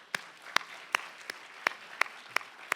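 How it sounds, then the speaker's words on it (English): Sparse, faint claps from the audience at a 2016 reentry conference keynote, single hand claps spaced evenly about every half second with no talking over them. "Can we have a round of applause?"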